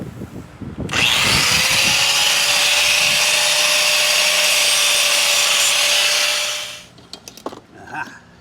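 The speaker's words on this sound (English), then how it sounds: "I'm gonna grind a little bit of paint off so that we that's fine." An angle grinder strips paint off a metal tab on a 4x4 van before welding, a loud, steady, high-pitched whine with a held tone lasting about six seconds, then winding down into a few clanks.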